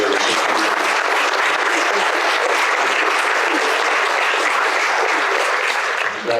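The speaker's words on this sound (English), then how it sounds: "a round of applause for each one of our honorees here" A large audience at the Allstate Sugar Bowl NFF Scholar Athlete Awards Luncheon gives sustained, loud applause for the honorees, a thick continuous wash of clapping that holds steady and only dips briefly at the end.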